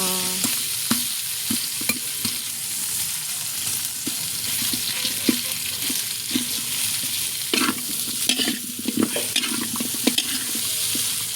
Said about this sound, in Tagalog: Tapos ginisa ko siya sa bawang.